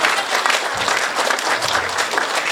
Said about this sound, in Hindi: मैं आगे से पीछे तक एक एक शख्स से निवेदन करता हूं कि वो जब तक माइक पर आए आपकी तालियां उनके कद के हिसाब से बड़ी होती रहें